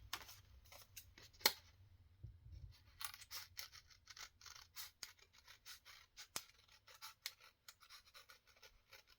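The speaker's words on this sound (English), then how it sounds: "Should go get my crinkly scissors and" Repeated crisp snips and scraping as decorative crinkle-edge scissors cut paper, in quick irregular bursts, fairly faint and close, with no talking.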